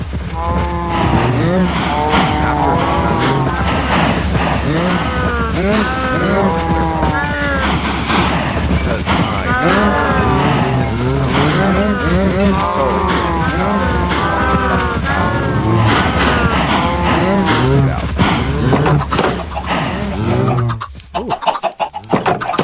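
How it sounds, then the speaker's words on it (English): Many cows moo in Minecraft, overlapping low bellows repeating loudly and continuously alongside clucking chickens, with a voice occasionally heard. "look at all these cows"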